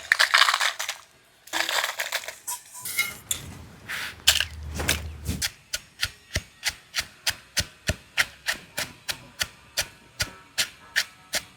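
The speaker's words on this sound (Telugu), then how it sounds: "ఫస్ట్ మిరపకాయలు వేసి దంచేసుకుందాం" Green chillies are pounded in a stone mortar while making gongura pickle. Some grinding and scraping comes first, then a long run of sharp, evenly spaced thuds at about two strikes per second, close and distinct.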